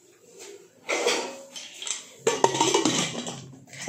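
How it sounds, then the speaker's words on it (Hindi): Dishes, pots and pans are washed in a home kitchen, giving a few close clinks and clatters of utensils among splashing, in short irregular bursts. "बर्तन भी धुलना है।"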